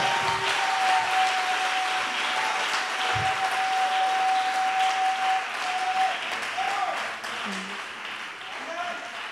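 A church congregation breaks into sustained, dense applause that holds steady and then eases slightly toward the end, with voices faintly mixed in beneath the clapping.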